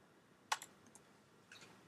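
A computer keyboard typing in a colour code: a few faint, isolated keystroke clicks with quiet pauses between them.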